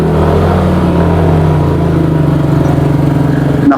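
A motorcycle engine labors up a steep climb on the 22-kilometre Asin Ascent road, a loud, close, continuous drone whose pitch creeps upward as it revs.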